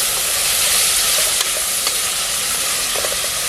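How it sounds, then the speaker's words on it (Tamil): Ingredients for a mutton biryani sauté with salt in a hot pan, producing a loud, steady close-up sizzle with faint stirring scrapes. "உப்பு போட்டு வதக்கினீங்கன்னா நல்லா வதங்கும்"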